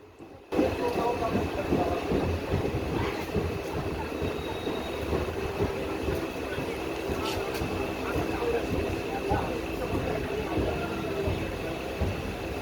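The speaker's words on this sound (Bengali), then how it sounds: "তিন নম্বর প্ল্যাটফর্মে আমাদের ট্রেন ঢুকেছে" A train pulls into platform three at Naihati station, its steady loud rumble and rail clatter running without a break beneath background voices.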